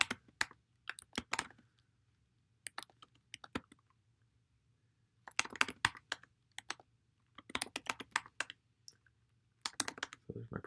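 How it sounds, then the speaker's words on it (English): Clicky computer keyboard keys typed in short bursts as a program is entered on a G80 system, close and fairly quiet, with pauses between runs of keystrokes over a faint steady hum. "if I type in that program again,"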